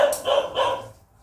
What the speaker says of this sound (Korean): 순이가 짖는 소리가 아닌데?